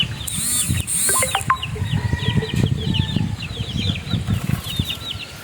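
Chickens are heard: bright chirps and peeps over clucking and rustling, with wings flapping nearby. The sound is fairly loud and continuous, and no one speaks.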